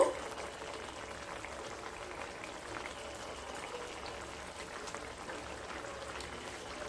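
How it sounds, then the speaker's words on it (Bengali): Fish curry with raw tomato and katla fish simmering at a boil in a pot, a soft continuous bubbling that stays steady and fairly quiet throughout, with no voices. "তরকারিটা ফুটে এসছে"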